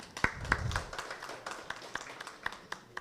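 Sparse, scattered claps from a small audience at a press conference, individual sharp hand claps spaced irregularly over a few seconds, fairly faint and thin rather than a full ovation.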